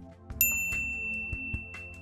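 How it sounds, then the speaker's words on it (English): Notification bell ding, a bright ringing chime struck a few times with clear sustained tones over a soft musical backdrop, close and crisp. "ring the bell to be notified about our latest videos"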